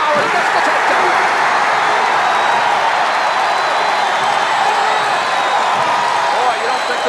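A college wrestling crowd roars steadily after a takedown at an Iowa State dual meet, dense cheering and clapping filling the arena at a constant loud level, with an announcer's voice mixed in.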